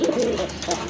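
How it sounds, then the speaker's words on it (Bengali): A male red Madrazi golla pigeon coos close by, a quick pair of soft, throaty, rolling coos in under a second. "নরের যেমন ডাক তেমন কিন্তু সাউন্ড আছে, প্রচুর পরিমাণে ডাকে কিন্তু এই নটটা"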